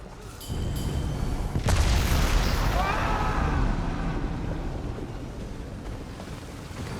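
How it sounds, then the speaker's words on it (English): A deep booming explosion bursts in The Elder Scrolls Online, followed by a long rumbling, crackling decay over a windy, noisy background. "Explosion."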